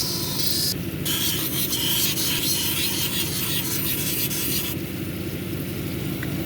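Steady rasping rub of a banded jasper cabochon being sanded on 220 grit, continuous and close throughout with a brief shift in texture midway, no voices.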